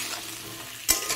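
Onion stalks frying in a pan are stirred, a low steady sizzle with one sharp scrape of the spatula near the end, close and alone.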